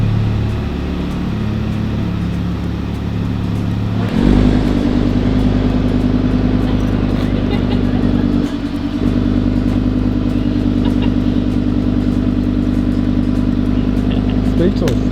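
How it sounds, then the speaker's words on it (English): An Audi R8 sports car engine catches at about four seconds and settles into a loud, close, steady running drone, with people talking over it. "All right, you ready to drive the R8?"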